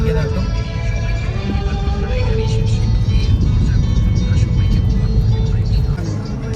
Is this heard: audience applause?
no